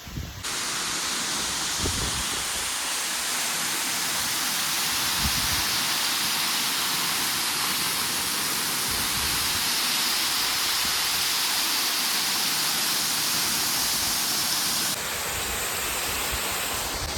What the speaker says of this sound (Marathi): तर ह्यो रामनवाडी वॉटरफॉल तुम्हाला कसा वाटला ते कमेंट करून नक्की सांगा